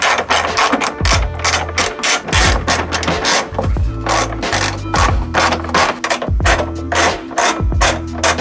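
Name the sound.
12 mm socket removing Tacoma fuel tank skid plate nuts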